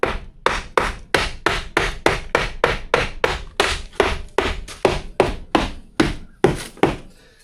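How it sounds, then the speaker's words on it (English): A small hammer strikes cement again and again, about fifteen sharp, close knocks at a steady, quick pace, each a hard crack with a short ring, with no one speaking. "between hitting it with that little hammer and taking this wire"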